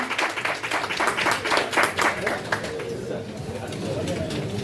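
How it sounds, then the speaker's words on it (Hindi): Audience applause during a session at a Hindi-language conference, a dense wash of clapping from many hands that builds and then fades after a few seconds, with voices heard over it. "मेरा दो तालियों से अभिनंदन करें"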